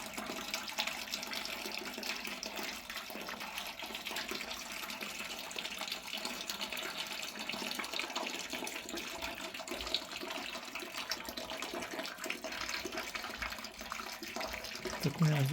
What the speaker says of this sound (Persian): آب باران